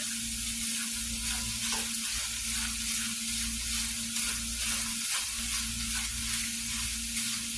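Hamburger meat and onions fry in a pan with a steady, close sizzle that holds evenly throughout, with no one talking.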